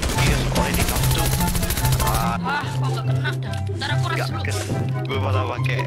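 Machine pistol fire in Fortnite, loud rapid bursts of shots, a long stream at the start, then scattered volleys mixed under excited talk from a player.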